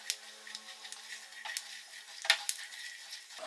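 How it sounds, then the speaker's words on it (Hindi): Peanuts fry in ghee in a pan while being stirred, making a soft sizzle under scattered spoon scrapes and clinks, with one louder knock near the middle. "मूंगफली ले रही हूँ और इसको अच्छे से घी में फ्राई कर लूंगी।"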